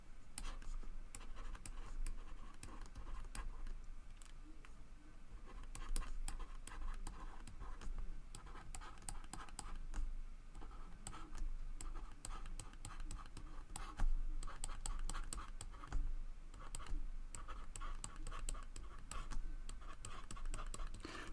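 Pen scratching and tapping while writing on a slide during a maths lecture on elementary matrices, a quiet, continuous stream of small scratches and clicks with no speech.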